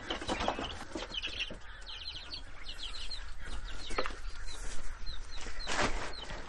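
Chickens and quail kept together in a backyard pen make soft clucks and short high chirps, scattered and intermittent at close range, over steady low outdoor rumble with no talking.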